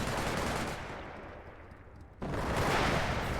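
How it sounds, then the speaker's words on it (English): Heavy gunfire fills a war video game battle as a dense, loud, continuous roar of shots. It dips briefly, then surges back even louder, with no talking. "Мы попали под шквальный огонь противника"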